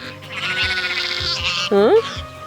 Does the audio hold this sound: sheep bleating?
yes